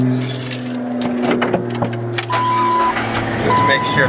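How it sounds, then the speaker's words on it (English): A 2001 Jeep Wrangler engine cranks and starts up close, settling into a steady idle hum with some clicks and rattles around it. "Now let me start up the car"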